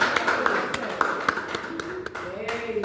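An audience at a mental health and psychosocial support talk claps for themselves, a few seconds of scattered, uneven hand claps with voices murmuring underneath.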